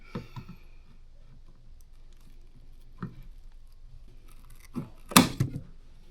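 Cheap Trojan snips cut through electrical wire near a charger installation, with faint handling clicks and then one crisp, sharp snip close by, followed by a small follow-up crunch.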